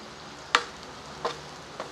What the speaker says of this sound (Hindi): इसे अच्छे तरीके से भून लेना है।